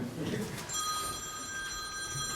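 A telephone rings with a bright, sustained electronic trill that starts after a moment and continues, with a voice talking over the start.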